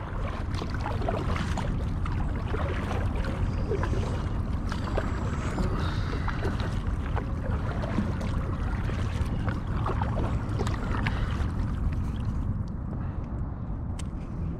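A pedal-drive kayak glides through a swamp with continuous close splashing and dripping from paddling and water movement against the hull, plus light rustling and faint outdoor ambience, no talking.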